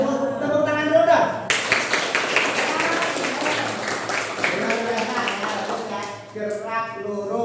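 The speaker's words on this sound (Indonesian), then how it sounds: "Tepuk tangan dulu dong." A classroom audience claps hands for a short stretch of scattered, irregular clapping that starts abruptly and sits alongside voices; talking is heard before and after.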